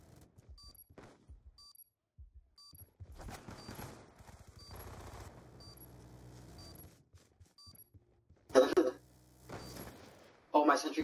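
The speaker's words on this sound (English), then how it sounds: "Oh, my sentry gun's killing me, dude." Sentry gun firing in a video game, scattered sharp shots and short bursts at moderate distance, growing denser midway, then two loud closer bursts near the end, with quiet stretches between.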